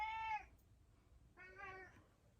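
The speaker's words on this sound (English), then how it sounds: "if you hear a meow, that's who's meowing" A house cat meows twice indoors, close by and fairly soft, with a short drawn-out call followed a second later by a longer one and a quiet pause between them.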